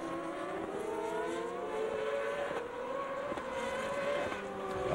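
GP2 race cars climb a hill on a Spanish circuit in 2007, several high-pitched engines whining and rising together as they approach at a distance, steady and sustained.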